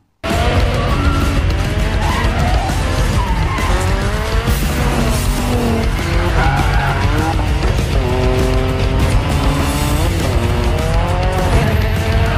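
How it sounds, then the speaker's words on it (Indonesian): Cars drift through a street chase in a movie scene: loud racing engines rev and roar while tires squeal and skid repeatedly, with sharp pitch sweeps as the cars slide past, close and continuous. "berlanjut dengan aksi kejar-kejaran drifting di jalanan"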